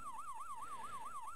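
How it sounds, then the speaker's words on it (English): A police car siren wails in the game Police Quest 1, a loud, fast rising-and-falling electronic tone that repeats steadily on its own. "I'm just going with lights and siren"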